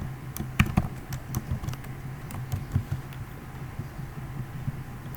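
Rapid clicking on a computer keyboard, irregular clusters of keystrokes close up over a low steady hum, no voice.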